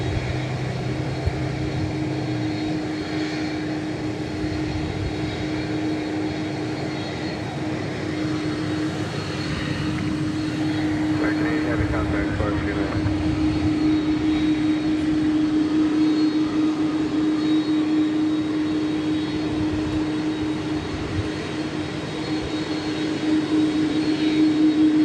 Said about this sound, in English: MD-11 trijet